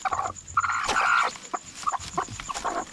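Mother hen with newly hatched chicks, giving a run of clear, close calls of fowl that rise, hold and break off, with several short bursts in between and steady faint peeping behind.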